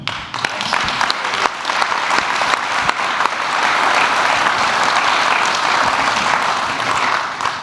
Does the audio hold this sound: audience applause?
yes